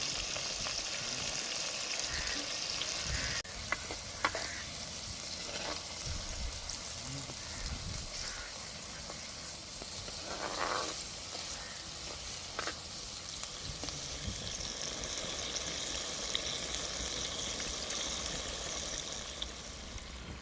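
Tomato, onion and curry leaves sizzle and fry steadily in hot oil for a fish curry, with occasional stirring scrapes and a faint voice briefly in the background.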